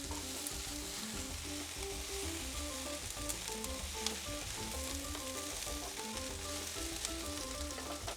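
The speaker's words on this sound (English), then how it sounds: "Now we're gonna add in our Napa cabbage. So keep stirring it." Napa cabbage stir-frying in a pan for pancit, a dense continuous sizzle with busy crackling and occasional stirring scrapes, close up and steady, with no voices.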